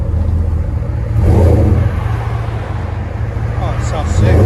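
A 2020 Dodge Ram with the 5.7L V8, dual exhaust and Flowmaster Super 10 mufflers idles close by, giving a steady deep rumble with a slight swell midway, and a voice is heard over it.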